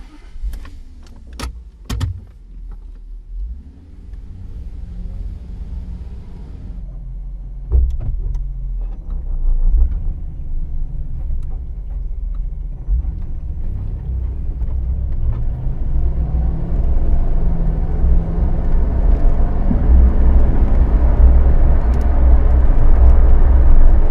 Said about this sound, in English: today we're driving the Jaguar XK8 Convertible